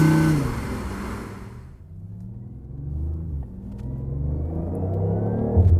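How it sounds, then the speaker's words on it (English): A BMW i8's gasoline engine, switched to sport mode, rumbles low and then climbs steadily in revs, a deep growl building over several seconds with no talking. "throw it in sport, the gasoline engine fires up"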